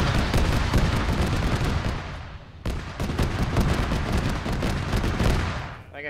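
Autocannon fire in Arma, the ShackTac mission, comes as a dense, continuous stream of loud, rapid booming shots, briefly dropping off near the middle before resuming and fading at the end.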